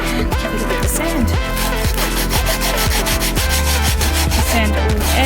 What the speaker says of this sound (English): Just going to sand this edge, all these edges, and then just the front.